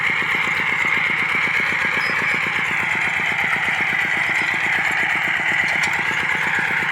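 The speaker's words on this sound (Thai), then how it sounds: "เป็นรถไถเดินตามนะครับ" A small walk-behind tractor engine chugs steadily at close range, a fast even putter with a rough mechanical drone that never changes pace.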